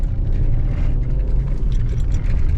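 A VW Jetta 1.2 TSI 105 PS turbo engine pulls uphill under full throttle on a slippery road, a loud, steady in-cabin rumble and whir without speech.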